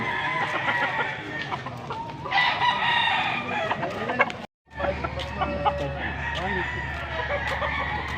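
A six-month-old stag rooster crows loudly and repeatedly close by, with clucking and other fowl around it in a noisy outdoor yard in Pampanga, against a constant low hum.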